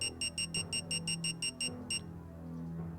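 In the Japanese video game King's Field, a high electronic alarm beeps about ten times in a quick, even rhythm, then once more after a short gap, over a low hum.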